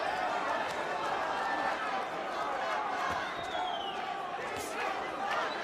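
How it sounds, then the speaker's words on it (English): A Puerto Rican crowd at a WBC light welterweight boxing main event keeps up a loud, continuous chanting roar that fills the arena without a break. "the chants of the Puerto Rican crowd"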